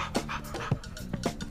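A dog pants in quick, breathy bursts close by, a short run of rhythmic huffs with a faint whimpering edge, alone and fairly quiet.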